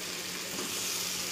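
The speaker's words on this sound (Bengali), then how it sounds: "এটা করছি হচ্ছে আলু, বেগুন, কুমড়ো এই দিয়ে চিংড়ি মাছ দিয়ে তরকারি।" A shrimp curry with potato, eggplant and pumpkin sizzles in a pan, a continuous, even hiss of frying that holds steady and close throughout.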